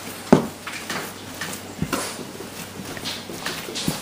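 Homemade pizza dough pounded and kneaded on a kitchen counter, giving a few dull, spaced thumps amid soft handling noise, close and fairly quiet.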